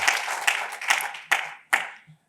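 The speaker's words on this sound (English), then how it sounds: "Clap it up for Chicago" An audience claps and cheers for the city of Chicago at a political speech by a state representative, the applause swelling in several loud bursts before tapering off quickly.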